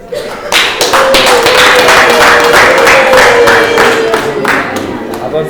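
Wedding guests at a traditional Rwandan wedding clap for the parents, a dense burst of hand claps sustained for several seconds at close range, with a tonal voice or whistle line running underneath.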